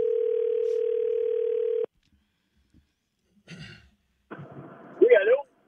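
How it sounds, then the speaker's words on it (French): A steady telephone dial tone hums for almost two seconds and then cuts off abruptly as a call is placed. Faint clicks follow, then a brief breathy sound and a voice on the line. "Alors oui, appelle Luc."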